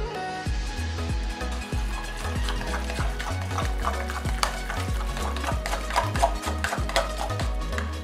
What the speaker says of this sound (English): Then slowly you add the ginger puree while mixing still in one direction.